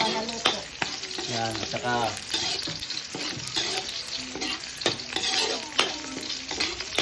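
Onion stir-frying in a pan for pancit, crackling and hissing with busy scraping and tossing of the spatula, while a voice speaks briefly over the cooking.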